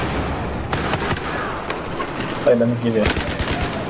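Gunfire and grenade blasts from the multiplayer shooter Battlefield 4, with dense shots and bursts running throughout under a player's voice and a louder explosive hit near the end.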